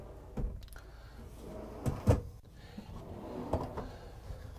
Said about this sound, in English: every drawer in this bathroom is going to be a soft closing